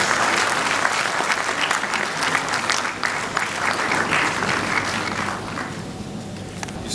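Audience at a graduation ceremony applauds steadily for a welcomed speaker, a dense, sustained round of clapping that fills the hall and tapers slightly toward the end, with no one speaking over it.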